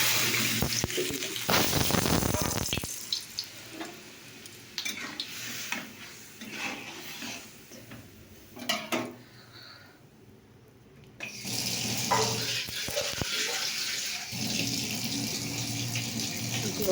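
Water runs into a pot of lentils already seasoned with salt and turmeric beside oil tempered with panch phoron, a close pouring gush with clinks of pots and utensils, a quiet pause midway, then more flowing water.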